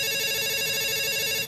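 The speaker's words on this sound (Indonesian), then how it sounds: "Ada suara telepon" A telephone rings loudly and continuously in a steady electronic tone with no voices, cutting off at the end.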